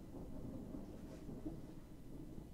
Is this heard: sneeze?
no